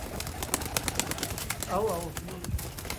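Sialkoti pearl-marked pigeons, pure-breeder young birds, give a soft throaty coo amid faint fluttering and bird movement, while someone speaks briefly over them.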